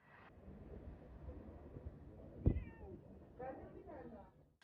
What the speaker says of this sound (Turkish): Antakya ilçesinin merkezi noktalarında nüfusun azalmasıyla birlikte kediler yiyecek bulmakta güçlük çekmeye başlamıştı.